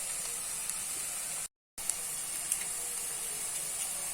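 Onion frying for chicken munchi fry: a steady broad sizzle and hiss from the pan, continuous and fairly loud apart from a brief cut, with no voices.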